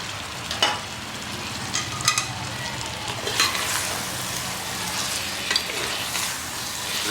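Garlic ginger paste sizzles and fries with mutton in a pan while being stirred for Jodhpuri bhuna gosht, a steady close crackling hiss with occasional scraping clanks and no talk.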